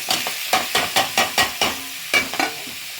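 Tomatoes with turmeric being sautéed in a pan: a spatula scrapes and stirs in quick, regular strokes, about ten close, fairly loud scrapes, with no one talking.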